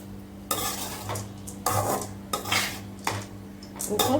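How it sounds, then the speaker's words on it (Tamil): Rice mixed with Indian gooseberry (amla) stirred vigorously in a metal pot, repeated scraping strokes of a spoon coming in bursts about every second, close and clear. "இதை போட்டு நல்லா மிக்ஸ் பண்ணி"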